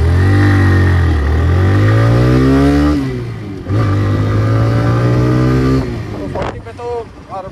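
A TVS Raider 125 disc-variant motorcycle accelerating hard from standstill to 40 in power mode, the engine note climbing in pitch, dropping at a gear shift near three seconds, then rising again, loud and close.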